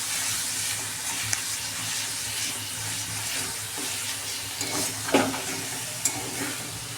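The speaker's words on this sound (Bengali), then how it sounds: "একদম মিডিয়াম ফ্লেমে নাড়াচাড়া করে একদম ভালো করে ফ্রাই করে নেব শাকটার সাথে।" Gima greens frying in a pan over a medium flame, a steady broadband sizzle with occasional scrapes and clinks of stirring, close and continuous with no talking.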